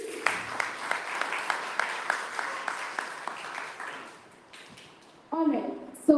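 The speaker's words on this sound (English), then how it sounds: "can we start this off with another round of applause, please?" Audience at a hackathon panel discussion gives a round of applause: fairly regular, moderate claps that gradually thin out and fade, followed by a brief quiet stretch before a voice starts speaking.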